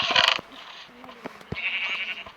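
A short Minecraft goat bleat rings out, followed by a second drawn-out bleat, with small clicks and faint voices in between.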